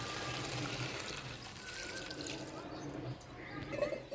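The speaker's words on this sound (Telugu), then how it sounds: "ఒక గిన్నె బియ్యం తీసుకునేదా 2 గిన్నెలు నీళ్ళు అయితే వేసుకుందామండి" Water is poured into a pot of soaked rice for gongura pulao, a quiet continuous splashing and trickling flow that stays fairly steady and soft.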